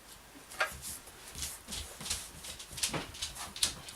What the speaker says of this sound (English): that is my dog just walking through the room